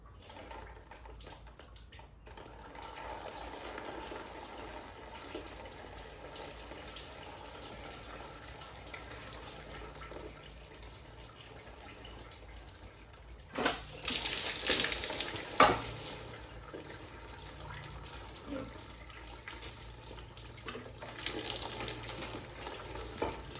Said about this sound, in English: Let's see how much antifreeze we can get on the floor.